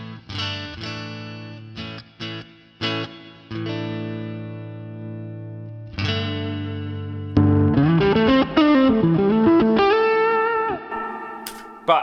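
An electric guitar plays through a tube amp with a boost pedal on, ringing out sustained overdriven chords, then shifting into a run of bending, distorted single notes at solid volume.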